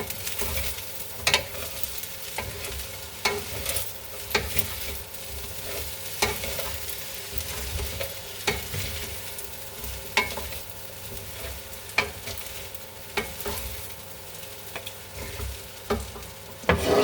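Oxtail fried rice with carrots is stir-fried in a pan over lowered heat, a continuous soft sizzle broken by regular scraping and tossing strokes, with no voices.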